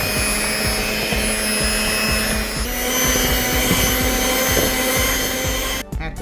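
Close, loud whir of an electric mixer beating butter into a dry, sandy dough, a steady motorized drone with rhythmic scraping of the beaters against the bowl, cutting off abruptly near the end.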